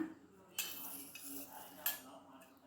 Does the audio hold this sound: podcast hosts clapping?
no